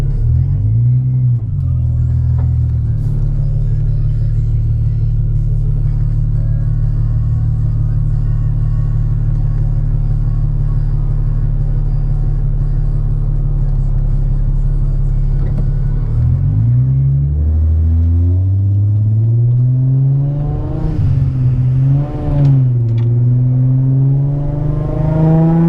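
Boosted Infiniti G35 engine rumbling heavily as the car drives, a deep steady low drone that rises and swells in pitch toward the end as it accelerates, loud and close with no talk.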